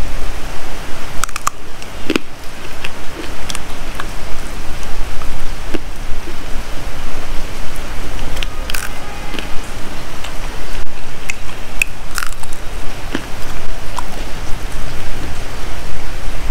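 Rain falls steadily outside a home on a rainy day, a dense continuous hiss with scattered sharper drop taps and clicks, close and fairly loud, no voices.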